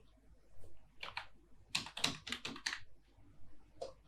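Someone types on a computer keyboard in short, quick clusters of key clicks with pauses between them, close and fairly quiet, while typing a Windows system restore search.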